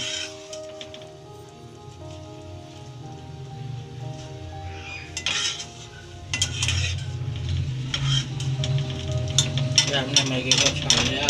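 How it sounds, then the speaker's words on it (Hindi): Boiled Maggi noodles being strained in a home kitchen, with clattering utensil and pot sounds, then running water and steam hiss growing louder and busier in the second half. "बॉयल हो गया, अब हम इसे छान लेंगे। ये हम छान रहे हैं।"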